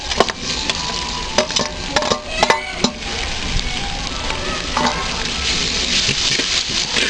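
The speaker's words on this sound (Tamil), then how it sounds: "வெங்காயம் நல்லா வதங்கிருச்சு. அடுத்து வந்து தக்காளி போடுறோம்." Onions and tomato frying and being stirred in a clay pot for fish curry, a steady close sizzle with scraping stir strokes and spatula knocks throughout, no talking.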